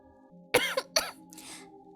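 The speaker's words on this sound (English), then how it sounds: "I'm very sorry about the coughing." A couple of sharp, close coughs in quick succession, followed by a softer throat-clearing rasp, against a quiet background.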